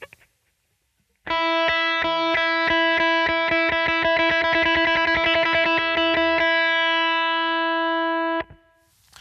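Electric guitar strummed in quick, even down and up strokes, a bright distorted chord ringing steadily for several seconds, then stopping abruptly.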